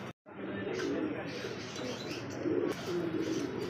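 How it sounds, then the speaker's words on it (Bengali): A male German Beauty Homer pigeon cooing nearby, soft repeated low coos over background murmur and people talking. "একটা কবুতর দিয়ে ডাকানো হইতেছে যে এরা নর না মাদি"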